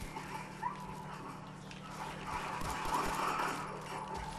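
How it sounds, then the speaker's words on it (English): A dog in the video game Fallout 4 barks and whimpers amid a steady low game hum, with short yelps rising over the din. "Is that the killing dog?"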